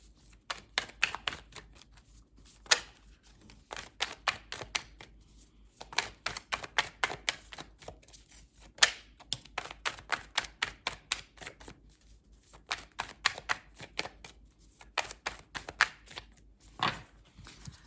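Tarot cards are shuffled in quick bursts of crisp riffling clicks, close and distinct, pausing between rounds as cards are drawn, with no voices.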